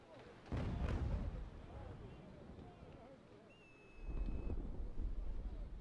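Cannon fire aboard a sailing warship in Naval Action, two heavy booming barrages rumbling out with a windy, sea-like wash between them, fairly distant and low in level, with a thin whistling tone partway through.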